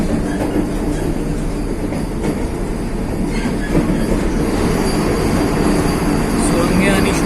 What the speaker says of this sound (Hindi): तो ये पहाड़ों में ट्रेन चलते हुए